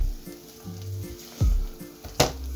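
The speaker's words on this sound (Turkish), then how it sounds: "Artık tamamen kızarmasını bekleyeceğiz." Garlic cheese toast fries in a covered pan with a soft, steady sizzle, broken by a few sharp clinks and knocks, probably from the lid or utensils, close by and with no talk.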